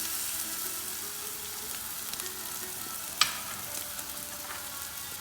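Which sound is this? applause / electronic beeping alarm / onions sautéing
onions sautéing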